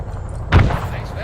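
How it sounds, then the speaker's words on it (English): A frag grenade goes off in a Vietnam-era shooter set in Rung Sat in 1966, one short, heavy, muffled boom at mid-distance, with game noise and a speaking voice underneath. "Alright, heads down, frag out to the east"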